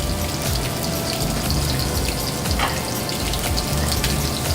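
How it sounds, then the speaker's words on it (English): Cajun-seasoned blackened fish sizzles in a very hot pan, giving a loud, steady hiss and crackle that runs unbroken without talk. "From the plate, we're going to go right to my pan. Give it a sizzle."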